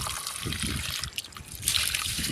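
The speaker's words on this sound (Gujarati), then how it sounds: "આને આ રીતના પાણી ધોઈ નાખો કમ્પ્લેટ ધોઈ નાખવાનું" Rice being rinsed in water for khichdi, a steady trickling and sloshing of water in a vessel with soft splashes, close by and alone, brightening for the last half second.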